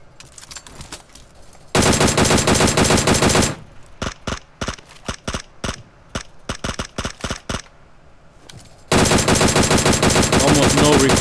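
Automatic gunfire from a gun in PUBG Mobile: loud sustained bursts of rapid shots, broken by a stretch of separate single and short shots, then another long continuous burst, with no voice.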